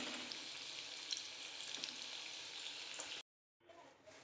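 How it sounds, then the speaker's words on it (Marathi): Veg cutlets fry in a pan with a steady, close hiss of sizzling oil that runs for about three seconds. The sound cuts out briefly, then the sizzle resumes more faintly. "आपले कटलेट छान फ्राय होत आहेत"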